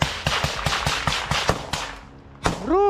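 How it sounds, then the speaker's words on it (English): Gunfire on a battlefield among ruined buildings and trenches: a rapid series of sharp, loud shots in steady rhythm, then a pause and one more heavy blast with a ringing tail. "Gunfire and explosions echoed through the ruined buildings and trenches."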